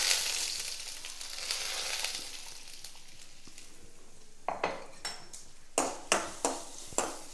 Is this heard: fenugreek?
yes